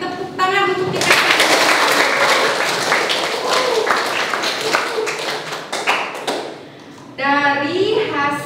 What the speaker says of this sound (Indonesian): Kita beri tepuk tangan untuk kita